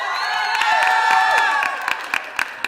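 Crowd cheering, whoops and clapping fill a city council meeting chamber, a sustained burst of voices that thins into scattered claps near the end.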